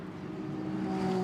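The SMP Racing Ferrari sits in the pit lane at the Spa 24 Hours, its engine a steady low drone with tonal hum that swells slightly louder toward the end.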